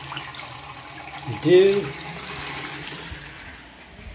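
Hot water running steadily from a tap after a tankless water heater filter replacement on a very cold day, a continuous close hiss with a brief spoken reply partway through.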